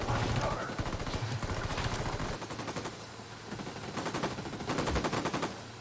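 Automatic weapon fire crackles in rapid bursts during a firefight in Ghost Recon Wildlands, with dense rattling volleys, a brief lull midway, then heavier sustained shooting and overlapping voices.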